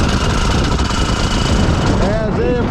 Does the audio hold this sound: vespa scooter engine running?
yes